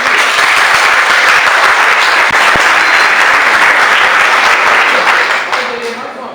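Loud, dense applause from the audience at a mayoral candidates' debate in Penedo, a close, continuous roar of many hands that holds steady and then tapers off at the end.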